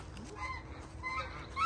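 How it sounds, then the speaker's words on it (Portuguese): Geese honking in a countryside setting, several scattered calls rising over a steady low rural background, moderately near and fairly loud. "Olha, os gansos estão enfeitando ali, ó."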